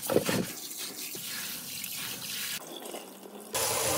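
Glutinous rice is rinsed and rubbed in water in a bowl, giving short watery swishes and splashes, with running tap water near the end, close and fairly quiet.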